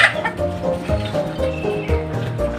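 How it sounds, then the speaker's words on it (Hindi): A hen clucks in low, repeated calls close by, with a busy rumble of movement and other birds behind it. "आवाज़ चेक करें, माशाल्लाह मुर्गी बन चुकी है पूरी"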